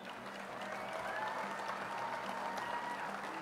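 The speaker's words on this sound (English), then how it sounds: "Big round of applause from Poland." Steady applause from the audience at the Arnold Strongman Classic finals honours a strongman competitor from Poland, a dense, continuous clapping texture at a moderate distance that lasts throughout without pauses.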